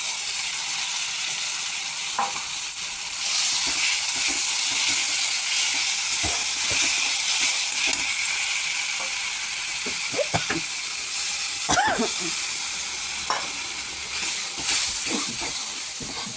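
Dissolved spice paste hits a hot pan for a fish kalia, setting off a loud, steady hissing sizzle, with occasional spoon scrapes and clinks.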